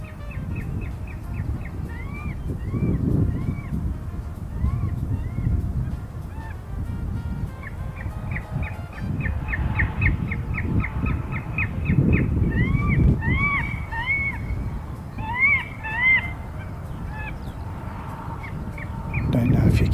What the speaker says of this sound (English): Oh, he's got the bird scarer going.